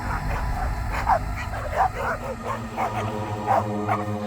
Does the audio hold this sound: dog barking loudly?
yes